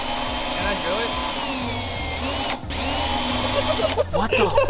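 A power drill with a bit grinds steadily into a car part on a Nissan S15 Silvia in a workshop, loud and close, briefly stopping and restarting, with people talking nearby.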